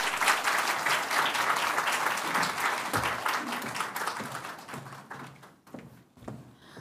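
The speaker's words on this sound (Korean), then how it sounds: "오신 우리 목사님께 감사하는 마음으로 박수로 맞이하겠습니다" A church congregation at a Sunday service claps to welcome a visiting pastor; steady, full applause that gradually tapers off into a few scattered claps near the end.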